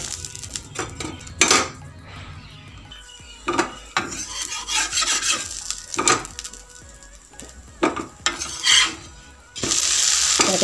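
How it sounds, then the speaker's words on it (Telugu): Dosa batter frying on a hot pan in a home kitchen, with a steady sizzle beneath repeated scraping and clinking of a metal spatula and utensils, close and clear, rising into louder sizzling near the end. "దోశలు కూడా పోసేసుకుంటున్నాము."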